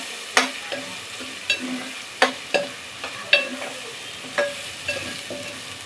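Ingredients roasting in a pan for a Colambiche kalvan, with a soft sizzle beneath about nine sharp, evenly spaced scrapes of a spoon as they are stirred, close by and without voices.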